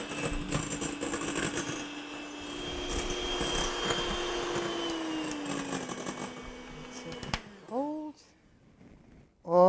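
An electric mixer whirs continuously as it whips egg whites and sugar toward soft peaks for Italian pinoli cookies, its pitch sagging slightly before it cuts off abruptly, followed by brief voices and clatter.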